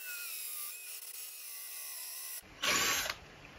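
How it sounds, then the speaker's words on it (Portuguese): A drill bores a hole in the centre of a clamped piece of wood. A steady motor whine is followed by a short, loud grinding burst as the bit bites in, close up and without speech. "Vou bem no centro e vou fazendo o furo."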